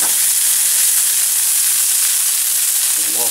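A tablespoon of butter sizzles hard in a hot pan with a searing cod fillet, a dense, loud, unbroken frying hiss filling the whole span, with a faint clink near the end.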